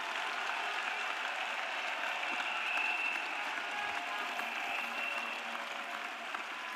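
A church congregation applauding for Jesus, a dense, steady wash of clapping from many hands that fills the space evenly and continues throughout.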